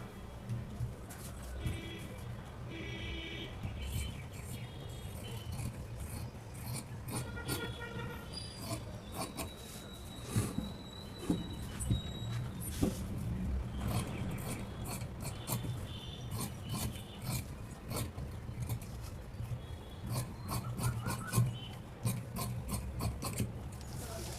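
Scissors snip through blouse fabric along a marked line at a tailoring table, a steady run of crisp cuts and rasping rubs, close up and moderately loud throughout.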